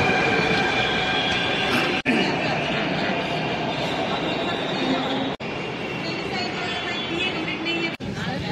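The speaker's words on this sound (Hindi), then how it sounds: "मेट्रो जा रही है उधर।" A metro train rumbles past close by at a metro station in Jaipur, a dense continuous roar of wheels and motor with brief clicks, and faint voices beneath.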